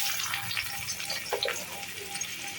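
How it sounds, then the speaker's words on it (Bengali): Onion dropped into hot oil in a wok for a chicken liver ghugni, giving a steady close sizzle and crackle of frying that fills the clip with no talk over it. "তেলটা গরম হয়ে গেলেই আমি এখানে পেঁয়াজটা ছেড়ে দেবো।"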